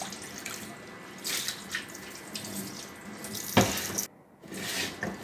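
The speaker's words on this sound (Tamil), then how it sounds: "தேய்ச்சி கழுவுறதுனால அந்த மண் தூசுகள் துணிக்கைகள்லாம் கழுவப்பட்டுரும்." Water runs steadily from a tap while a new clay pot is scrubbed and rinsed beneath it, with splashing and brief pauses in the flow, close and fairly loud, no voices.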